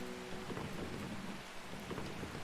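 Steady rain in the video game Strange Horticulture, a dense continuous hiss of falling water with low rumbling underneath, even and unbroken throughout, with no voices.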